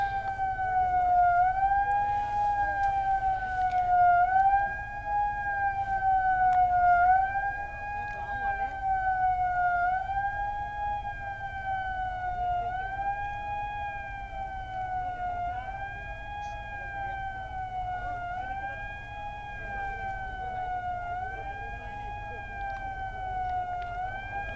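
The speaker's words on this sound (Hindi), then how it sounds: "एक बार फिर से सायरन बजाया गया" A corona awareness siren, sounded twice a day to remind people to wear masks, wails steadily for the whole stretch, rising and falling in regular slow cycles over a low background rumble.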